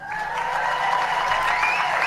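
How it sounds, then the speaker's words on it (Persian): Audience applause at a speech by Reza Pahlavi at an American Jewish summit: a sustained, dense wash of clapping from a large crowd, steady and fairly loud across the whole stretch, with a faint tonal sound behind it. "تشویق حضار رو می‌بینیم."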